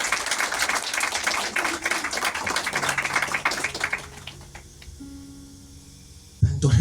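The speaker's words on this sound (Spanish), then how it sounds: "Dale un aplauso si siente su presencia." A church congregation claps together in a broad wash of applause that thins out over several seconds, leaving faint tones and room noise, with a sudden louder sound at the end.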